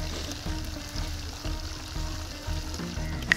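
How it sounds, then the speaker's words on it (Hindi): Fish pieces frying in oil over a medium flame, a close, steady sizzle and bubble with gentle swells and one small pop near the end, with no voices. "मीडियम फ्लेम पे इसको फ्राई करें।"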